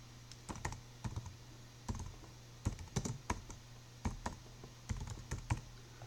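Keys clack on a computer keyboard in short irregular bursts of quick taps with brief pauses between them, close and fairly quiet, over a low steady hum.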